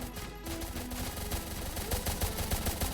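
Soldiers firing guns in a Roblox tower defense game, a dense continuous stream of rapid synthetic gunfire crackling throughout with no voices.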